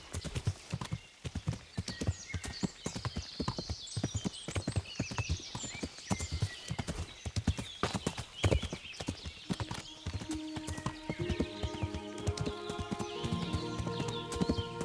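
A horse gallops through a forest in Kingdom Come: Deliverance, its hooves pounding in a fast, steady rhythm of close, crisp clops. A brief whinny joins near the end, over a busy game soundscape.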